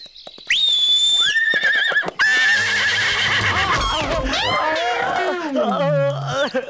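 A horse gives a long, loud, shrill whinny that wavers and drops in pitch, close and dominant over music and other sounds of a comedic film scene.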